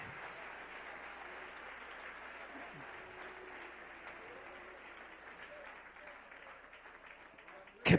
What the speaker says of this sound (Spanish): Dele ese aplauso al Rey.